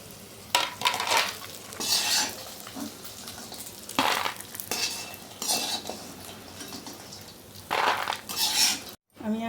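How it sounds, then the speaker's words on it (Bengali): Lentil dumplings (bori) fry in oil in a wok, with repeated loud metal scrapes and clatters from stirring over a soft, steady sizzle, and no speech. "বড়িগুলো এখন আমি একটু তেলেতে ভেজে নেব।"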